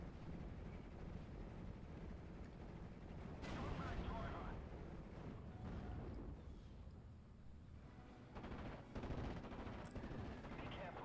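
Distant 25-pounder artillery guns firing repeatedly in the World War II game Steel Division: Normandy 44, dull booms and rumbling thuds layered under a continuous battle din, with someone narrating over it.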